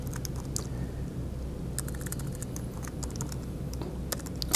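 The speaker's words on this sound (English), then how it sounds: "From here, I'll type the name of my content type." Steady typing on a computer keyboard while entering a Drupal content type name, with close, irregular key clicks over a faint background hum.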